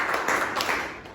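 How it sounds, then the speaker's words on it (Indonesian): Audience clapping for a classroom group presentation during a microteaching session, a brief burst of dense, steady applause from a room of listeners. "Berikan tepuk tangannya."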